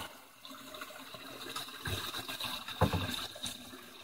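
Water rushes and gurgles steadily into a swirl filter of a backyard aquaponics pond system, a turbulent flowing sound with a few louder surges toward the end.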